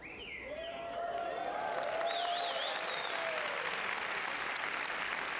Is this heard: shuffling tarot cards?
no